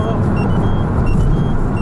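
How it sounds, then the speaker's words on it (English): A turbocharged 156 hp Peugeot RCZ drives along, a steady loud interior rumble of engine and road noise that stays even throughout with no break. "the car is actually moving very well and very stable"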